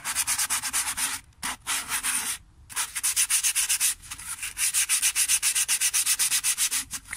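Hand sanding of a restored plastic part, with quick rhythmic back-and-forth scratchy strokes and a few brief pauses, close and clear with no voices.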